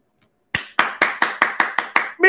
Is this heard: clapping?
yes